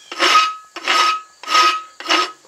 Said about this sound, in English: It's gonna take a little bit more filing to keep from having a little notch in that corner.